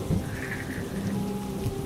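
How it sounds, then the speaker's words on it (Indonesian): Rain falling during a sudden storm under dark clouds, a steady dense hiss of downpour with a low rumble beneath, continuous and fairly close, no voices. "Hujan pun turun."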